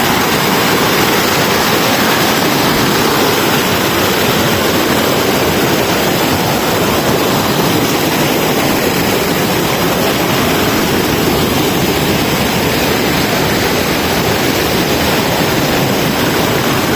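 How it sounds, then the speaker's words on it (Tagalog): Strong current of a river rushing steadily past, a loud, continuous broadband roar of turbulent water close by with no talk over it. "Dito medyo malakas ang agos ng tubig."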